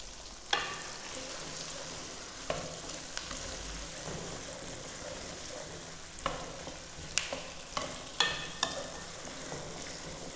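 Whole green chillies, 15 to 20 of them, frying with mixed vegetables such as potato and onion in a pan, a steady soft sizzle broken by occasional stirring clicks and scrapes, close and moderately quiet, with no talking.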